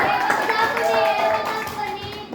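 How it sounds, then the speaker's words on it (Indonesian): Year 4 schoolchildren in a Malay-language class clap for themselves, a busy patter of small hands mixed with children's chatter and a teacher's voice. "tepuk tangan dulu untuk diri sendiri"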